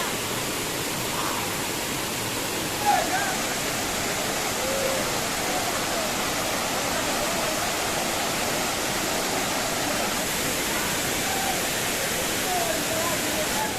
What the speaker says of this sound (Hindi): गाइस वाटरफॉल के ऊपर इस तरीके का माहौल है